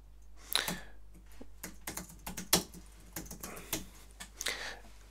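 Quick, uneven keystrokes on a computer keyboard while patient details are entered into a records program, close and clear with short pauses between bursts and no talking.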